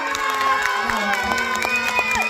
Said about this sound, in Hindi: मैं गुजारिश करूंगी एक बार जोरदार ताली, जोरदार।